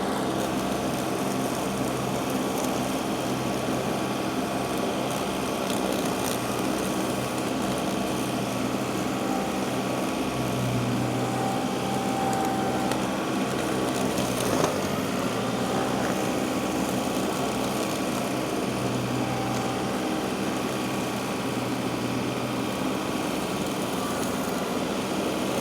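Hardee Brush Tiger mower engine running steadily, a constant mechanical drone with a faint whine layered on top, fairly loud and unbroken for the whole stretch, no voices.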